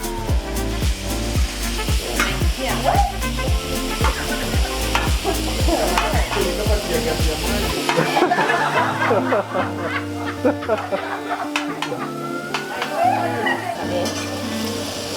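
Koroga stirred and sizzling in a pan at a restaurant, a loud frying hiss with repeated scraping strokes and utensil clatter, plus bits of laughter nearby.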